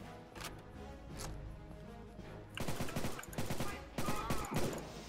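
Rapid bursts of gunfire from the video game Return to Castle Wolfenstein crackle in quick volleys, sparse at first and then dense and louder in the second half, with faint background game noise.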